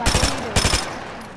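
Bursts of rapid gunfire in the Fortnite video game, two quick volleys of close, loud shots separated by a short pause, with a faint voice underneath.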